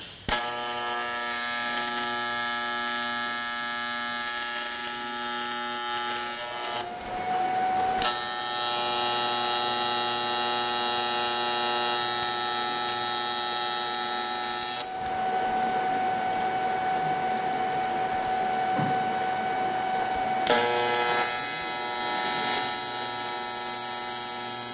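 A TIG welding arc tacks an aluminum elbow, giving a loud, steady electrical buzz close up that runs in long bursts separated by short pauses, with no talk.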